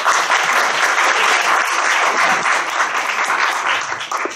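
Loud, dense applause from an audience at a lecture event honoring the organizing team, continuous vigorous clapping with no break throughout.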